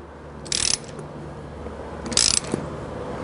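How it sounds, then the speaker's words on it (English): A ratchet fitted with a T30 Torx bit clicks in two short, close bursts while tightening mirror mounting nuts on a van, with quiet pauses between them. "So I've got a T30 Torx head fitting on this ratchet that I'm going to use to tighten these things down."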